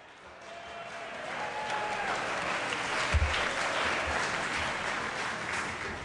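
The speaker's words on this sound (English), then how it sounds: "You're all clapping because we keep the procedure." Assembly members clapping in a meeting hall, a broad, muffled wash of applause rising and holding at moderate level, with a couple of low thumps partway through.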